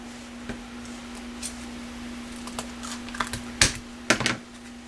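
Scissors snip through paper while making a Halloween treat box: a few faint, scattered crisp cuts that come closer together toward the end, over a steady low hum and no talking.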